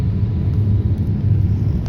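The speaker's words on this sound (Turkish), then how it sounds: "uçağımız Doğala'dan kalktı." A low, steady rumble of an airliner cabin or engine during takeoff from Douala, Cameroon, continuous and fairly loud with no voices.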